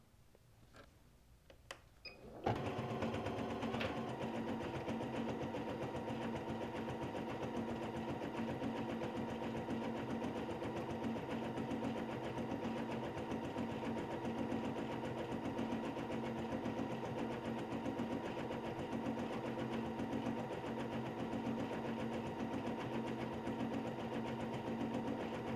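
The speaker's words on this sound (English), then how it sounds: "we're going to install it in the embroidery machine and start our second stitch out" An embroidery machine stitches a design onto a dress, starting with a brief rattle and then settling into a steady, close mechanical hum and whir that runs unbroken, with no talking.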